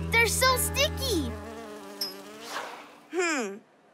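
Cartoon RoboFly buzzing in short bursts, a high wavering drone that swoops up and down in pitch, with a separate rising whine near the end; fairly close and clear with no talk over it.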